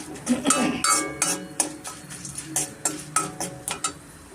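Urad dal fries in a pan with asafoetida while a metal spoon scrapes and clinks against it in a series of sharp, irregular strokes over a faint background sizzle.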